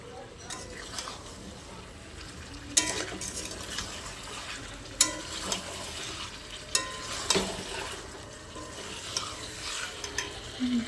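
Curry being stirred and fried in a pan with chicken still to be added, a steady low sizzle broken by sharp clinks of a utensil scraping the pan at intervals.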